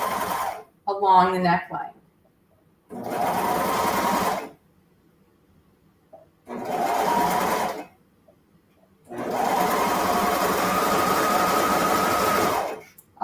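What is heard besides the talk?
sewing machine stitching a dress seam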